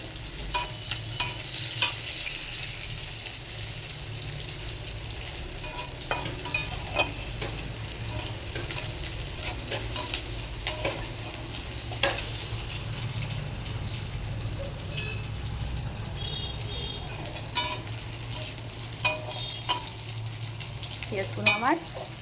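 Finely chopped onions fry in a pan while being browned, giving a continuous close sizzle broken by frequent sharp clinks and scrapes of a stirring spoon, steady throughout with no talk.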